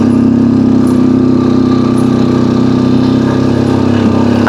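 A motorcycle engine holds a steady loud drone in second gear on a descending trail near San Vicente, Palawan, heard close and continuous with no pauses.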